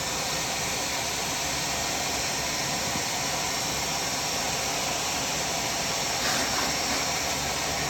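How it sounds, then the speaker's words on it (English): A hair dryer blows steadily on a 2018 Suzuki RMZ250 motocross number plate graphic to smooth out wrinkles, giving a constant close, loud broadband rush with no talking. "I'm going to hit it with the hair dryer"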